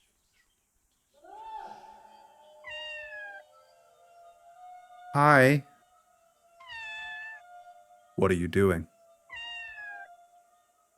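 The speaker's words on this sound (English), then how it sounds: "I am meowing at the top of my lungs, pretending the echoes belong to someone." Cat meowing in the video game OFF, with several bright, wavering meows spread across the clip and two loud, harsh yowls. A held electronic tone and a man's brief speech run between them.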